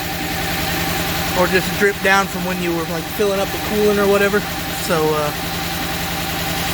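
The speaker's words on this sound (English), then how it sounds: "now that I at least have the engine running" A 2006 Subaru B9 Tribeca engine idles steadily just after installation, a constant close mechanical hum running throughout while someone talks over it.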